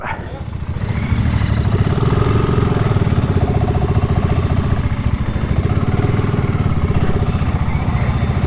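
Motorcycle engine, a BSA Goldstar or Royal Enfield 650, running steadily close by with a loud, rapid, even exhaust beat throughout.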